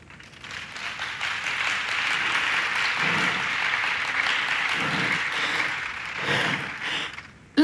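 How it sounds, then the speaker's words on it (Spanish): A church congregation at a sermon applauds for several seconds, steady dense clapping that swells slightly near the end, with a few voices faintly mixed in. "Un aplauso para él."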